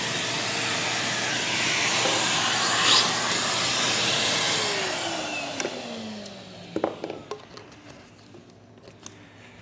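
A Numatic Henry HVR-160 compact canister vacuum cleaner runs with a loud, steady whooshing roar, then winds down with a falling whine and a few close clicks and knocks at the end; no one speaks.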